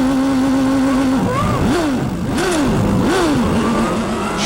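Formula 1 cars from the 1993 season starting a race, engines revving hard with rising and dipping pitch sweeps as the field pulls away, loud and continuous with several cars overlapping.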